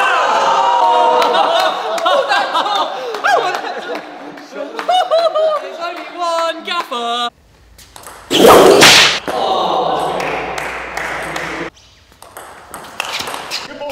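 A whip cracks in a video game during a team knockout tournament, with a sharp snapping crack partway through amid excited talking and game sound effects.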